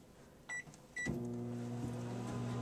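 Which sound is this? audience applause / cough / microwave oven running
microwave oven running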